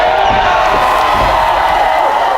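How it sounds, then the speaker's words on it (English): A crowd at a wrestling event in Wellsboro screams and cheers on cue, a dense, loud, continuous roar of many voices with scattered shouts. "Let me hear you scream."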